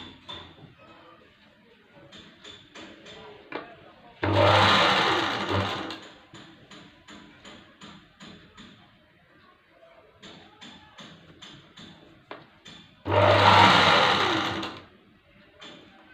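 A sewing machine stitches a blouse hem in two loud, steady runs of about two seconds each, separated by quieter stretches of small taps and handling of the fabric.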